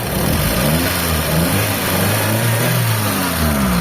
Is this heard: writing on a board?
no